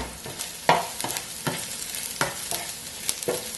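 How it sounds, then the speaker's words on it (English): Garlic sizzling in a hot pan, a constant frying hiss broken by repeated scraping clicks as it is stirred, close and fairly loud. "Now we are ready to add our garlic. All of it. Can you hear the sizzling sound?"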